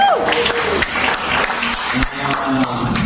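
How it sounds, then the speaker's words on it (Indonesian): A church congregation claps and cheers in sustained applause lasting the whole stretch, loud and dense, with a speaker's voice mixed in near the start. "tepuk tangan buat Tuhan Yesus"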